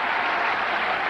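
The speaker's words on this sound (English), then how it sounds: "A great applause from the Rovers fans here" Rovers fans at a football match applauding, a dense, loud wash of clapping from a large stadium crowd, brief and sustained.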